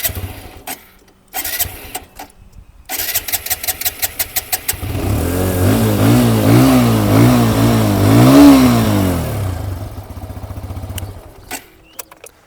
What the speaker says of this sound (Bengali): এবার চলুন অ্যাপাচের যে এক্সস্ট সাউন্ড সেটাও আমি আপনাদেরকে একবার দেখিয়ে দিই।